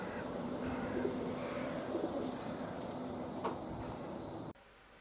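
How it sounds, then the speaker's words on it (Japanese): Pigeons cooing softly as they settle back at their home loft after a training flight, a steady gentle murmur of coos with occasional faint chirps, moderately distant, ending abruptly. "1羽は今鳩が降りてきました"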